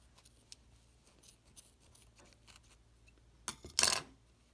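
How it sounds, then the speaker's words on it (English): Scissors snip through the yarn end of a finished piece of knitting, a quick close cut near the end after quiet handling rustles. "I'm going to go ahead and cut."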